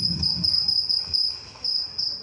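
A cricket's recorded chirping plays through a speaker at a live bird show at a zoo, a steady high trill pulsing in repeated bursts over low background murmur.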